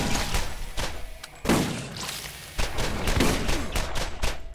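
Shotgun blasts boom in the video game Borderlands, several heavy, evenly spaced shots mixed with other gunfire and thuds, loud and close with no talking over them.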